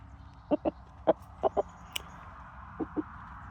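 Hens cluck in short separate bursts, a few quick pairs and singles spaced over a few seconds, close by, against a quiet low background hum.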